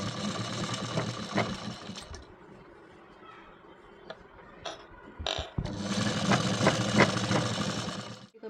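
A sewing machine runs a straight stitch through thin, slippery blouse fabric, whirring steadily in two loud bursts separated by a quieter pause with light handling clicks.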